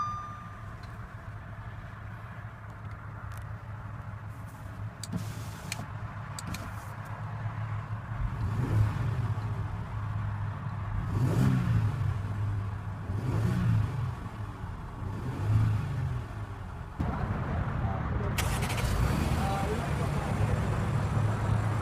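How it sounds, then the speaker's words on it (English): A 2015 Audi Q7 3.0 T engine idles, then rises in several distinct revving swells and settles back, heard close with a steady idle hum between the revs. "let's give it a few revs and see how it sounds."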